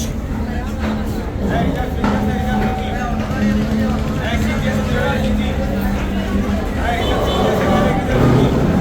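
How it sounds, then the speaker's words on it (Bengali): Passenger launch Kirtankhola 10 berthing at the Barishal launch ghat, heard as a steady loud low engine drone with a sustained horn-like tone, under constant crowd babble and voices at a busy riverside terminal. "চতুর্থ নাম্বার লঞ্চ কীর্তনকলা দশ সফলভাবে বার্থিং করলো বরিশাল লঞ্চ ঘাটে"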